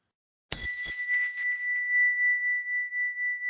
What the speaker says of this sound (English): Now use listening to the chime as an opportunity to bring all your attention to your breathing